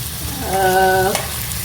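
Rice stir-fried in ghee in a pan makes a close, steady hiss, with a brief squeaky tonal scrape from stirring in the middle.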